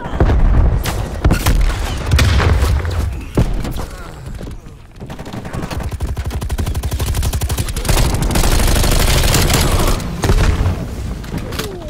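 Grenade blasts and heavy automatic gunfire in Call of Duty Black Ops Cold War multiplayer, loud and continuous, with dense rapid bursts, booming hits and a brief lull in the middle.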